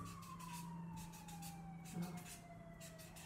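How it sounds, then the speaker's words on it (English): A wailing siren in the distance, its tone slowly falling, faint beneath a low steady hum. "Can you hear the siren outside?"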